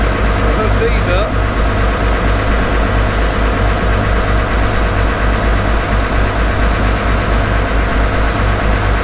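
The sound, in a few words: tractor engine idling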